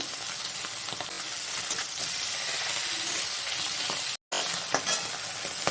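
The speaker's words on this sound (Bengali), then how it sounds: "মাছগুলো উল্টে পাল্টে ভালো করে ভেজে নিতে হবে।" Bata fish fry in hot oil in a wok with a steady, close sizzle and crackle. The sound cuts out for a moment near the end and then resumes, with no talking.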